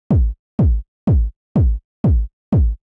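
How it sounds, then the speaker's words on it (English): Six evenly spaced hits of a warm, analog-sounding house kick drum thump at a steady four-on-the-floor pace, each with a deep tonal boom and a short decay, loud and alone. "the kick is very analog sounding"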